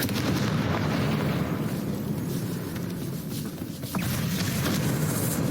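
Fiery blasting-spell explosions rumble through a Hogwarts Legacy fight, a dense, loud, continuous low roar with scattered sharper bursts and no talking.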